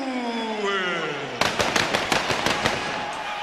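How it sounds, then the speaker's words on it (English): Fireworks set off to celebrate a heavyweight boxing title win, a rapid burst of sharp cracks and pops heard through crowd noise, following a falling whistling tone. "Fireworks to celebrate."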